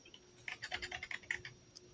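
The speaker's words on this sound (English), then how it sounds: "Sorry if you can hear me typing." Quiet, quick typing on a computer keyboard, a run of about a dozen close key taps with uneven rhythm and a final lone tap, no voices.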